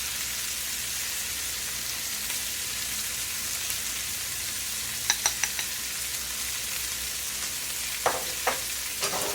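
Spices for pav bhaji, including pav bhaji masala, chili pepper, turmeric and dried fenugreek leaves, fry in a pan with a loud, steady, close sizzle, and a few clinks of stirring rise near the end.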